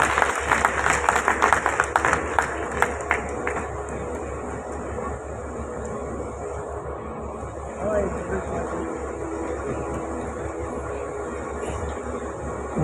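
Audience applause welcoming the president of CREDAI MCHI Thane at a property industry workshop, a dense burst of clapping in the opening seconds that thins into steady hall murmur and background noise.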